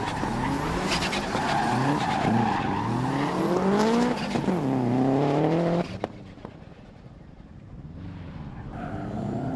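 A FormulaG race car spinning a 540 at Rockingham, its tires skidding in a long sliding squeal with a rising and falling engine note, loud and continuous before dropping to a quieter rumble near the end.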